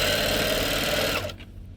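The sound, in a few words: sewing machine stitching a folded kitchen towel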